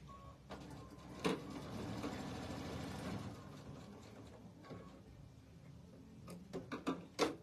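A sewing machine stitching quilt pieces for a Southern Stars block. A faint, quiet run of rapid mechanical stitching, with a few sharp clicks and knocks near the start and end.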